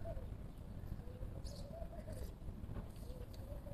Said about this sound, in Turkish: Şşt, yavru kuşlar.